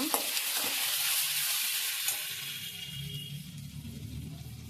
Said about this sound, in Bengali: মশলাটা একটু ভালো করে কষিয়ে নেব।